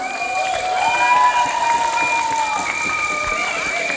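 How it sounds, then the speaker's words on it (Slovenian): Young quiz contestants and audience at a school eco quiz applaud and cheer a correct answer, a lively burst of clapping and shouts with whistle-like tones, fairly loud and sustained. "Bravo, en aplavz za pravilni odgovor."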